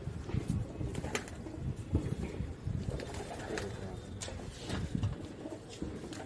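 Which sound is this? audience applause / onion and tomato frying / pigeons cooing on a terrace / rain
pigeons cooing on a terrace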